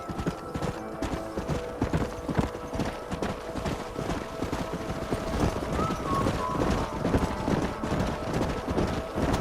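Horses' hooves clip-clop steadily in the Red Dead Redemption video game, a dense continuous beat of several animals close by, with a faint whinny in the mix.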